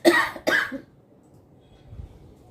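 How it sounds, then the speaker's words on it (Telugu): Two sharp coughs from a person with a cold, in quick succession, close and fairly loud, followed by quiet background noise. "సారీ అండి జలుబు చేసి దగ్గు వస్తుంది"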